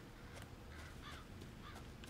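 Crows caw in the Resident Evil 7 swamp, a few harsh calls spread over a steady low ambient rumble, fairly faint and with no talk.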